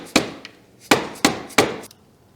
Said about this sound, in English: then with a rubber mallet, drive the pin out towards